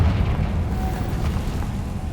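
A Confringo fire spell explodes in Hogwarts Legacy, giving a loud, deep rumbling boom that rolls on steadily without any speech.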